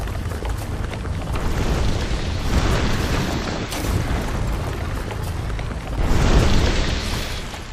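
A grenade in the StarRupture space building video game bursts with heavy rumbling booms over a constant roar, the loudest blast swelling near the end.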